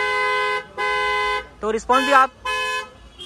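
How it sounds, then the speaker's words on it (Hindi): A dual-tone car horn fitted to a Tata Punch sounds in three loud honks, with a brief spoken word between the second and third. "डुअल टोन वाला अपने जो हॉर्न है वो यहाँ पे इंस्टॉल किया गया है।"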